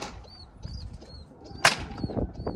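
Pigeons flap their wings on a rooftop in short bursts, with a sharp, loud clap of wings midway among softer rustles and faint high chirps close by.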